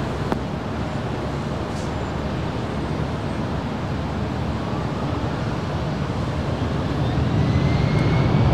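A jet airliner taking off from runway 24 left at Los Angeles International Airport, a steady broad engine roar that swells slightly toward the end, heard from a distance with traffic-like background noise.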